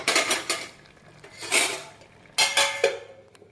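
A cooking pot of jackfruit-seed avial in a Kerala kitchen clatters as the lid goes on, three separate metallic clanks and scrapes of metal on metal, close and fairly loud with quiet gaps between.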